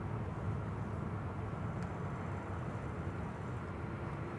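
A KLM Airbus A330-200 arriving at Schiphol on the Kaagbaan runway produces a steady, distant broadband roar that holds at an even level with no clear change.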